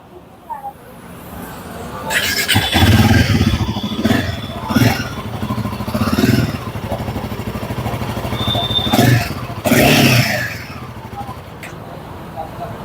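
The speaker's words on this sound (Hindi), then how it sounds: "इसका एग्जॉस्ट जो साउंड है" Royal Enfield Himalayan 450 single-cylinder motorcycle revved repeatedly while stationary, its exhaust barking in several sharp bursts that rise and fall back to idle, with someone talking between revs.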